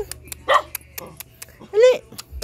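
A dog named Titing barks repeatedly at home in the Philippines, sharp close yelps spaced through the moment, with a rising whine-like bark near the end and faint background noise.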